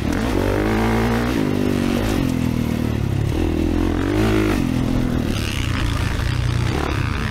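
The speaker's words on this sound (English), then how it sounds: "I don't think I can make my bike go any faster through that section." A 2024 Kawasaki KX450 dirt bike ridden on a grippy motocross track at Eugene MX, engine loud and continuous, pitch rising and falling as the rider revs and shifts through the section.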